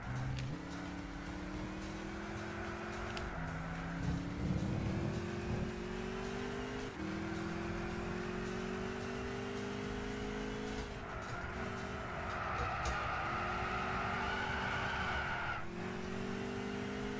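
A 1966 Shelby Cobra 427 in Gran Turismo 6 revs hard through repeated gear climbs and lifts, its engine note rising and dropping while the tires squeal through the corners, loud and close with no talking.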